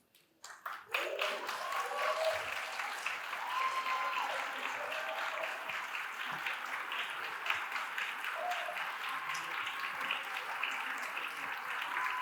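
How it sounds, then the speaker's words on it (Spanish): Audience applause, a sustained crowd clapping that swells in quickly after a few opening claps and holds steady and full for several seconds. "Un aplauso para ellas"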